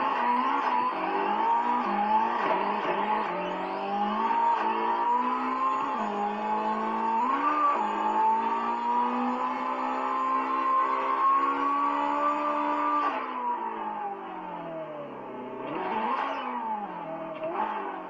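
Car engine in the CarX Drift Racing video game, an SR20 VET-powered car doing an anti-lag launch, revving loud and sustained with rising and falling pitch, a shift near the end.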